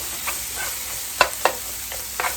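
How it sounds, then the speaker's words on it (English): Breakfast fried rice with meats sizzling in a pan as it is stirred, a steady hiss punctuated by several sharp spatula scrapes and clicks close by. "Give everything a stir."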